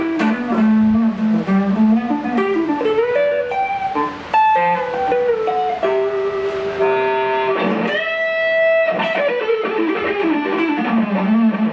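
Clean electric guitar through a Marshall Code25 amp, a melodic run of single notes and ringing chords played clearly and steadily, loud and with no other sounds.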